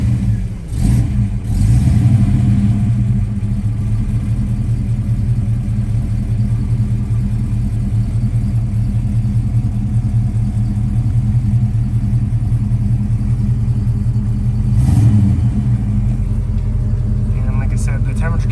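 A 1976 Camaro engine turns over and settles into a loud, steady low rumble that runs close up for the whole stretch, with an electric fuel pump noted at the back and a voice speaking now and then.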